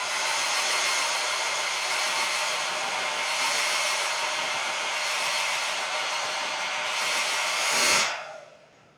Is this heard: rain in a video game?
no